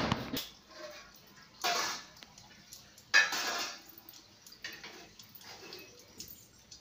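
A knife cuts potatoes into thick round slices for potato bajji, making a few sharp, quiet taps and chops spaced by pauses in a calm kitchen.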